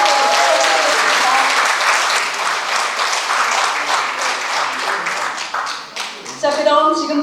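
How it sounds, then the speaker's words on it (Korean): Sustained applause from an audience at a neighborhood citizens' town meeting, honoring a school principal and student after a duet performance; dense, steady clapping that ends as music and a voice come in near the close. "하모니로 멋진 연주를 들려주신 새뜸중학교 박길선 교장 선생님과 권두영 학생에게 다시 한번 큰 박수 부탁드리겠습니다."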